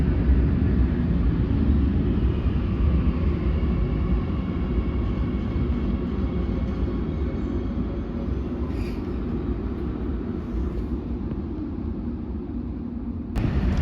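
An Oslo Metro train running on the ring line in the early morning, heard from inside as a steady, loud low rumble and rolling hum that continues without break, with a faint squeal near the end.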